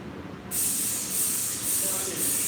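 A modified grease gun forces grease into a wheel seal, starting with an abrupt hiss and then pulsing in rhythmic bursts about every half second, close up.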